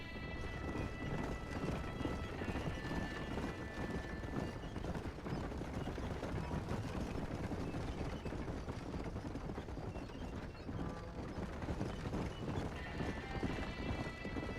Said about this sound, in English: I named my horses Skinny and Barnstomp